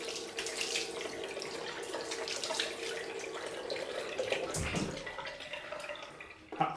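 Running tap water rinses shaving soap away, a steady close splashing flow with small drips and gurgles, uninterrupted and without talk.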